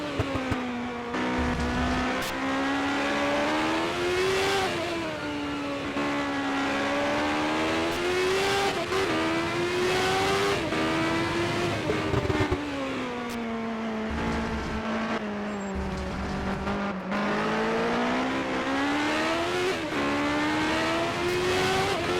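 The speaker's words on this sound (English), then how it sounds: "You see there some wheel spin coming out of the turns" CART Indy race cars at the 1988 Nissan Indy Challenge, engines screaming and rising and falling in pitch as they accelerate hard with wheel spin out of turns, loud and continuous with no talk heard.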